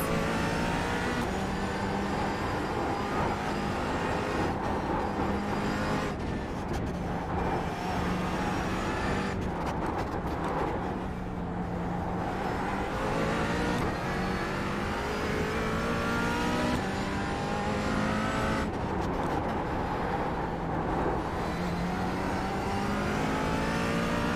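McLaren 570S GT4 race car lapping the Chicago street track in iRacing, a continuous loud engine drone rising and falling through gear changes and corners, with wheel hop through right-angled turns.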